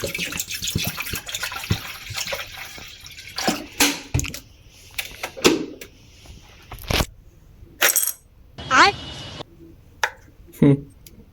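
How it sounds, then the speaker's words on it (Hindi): Water from a tap runs and splashes into a hotel-room kettle after washing, in short bursts with drips and clatter between, heard close and fairly faint. "तो केटल वॉश कर ली है, इसमें पानी डाल देते हैं।"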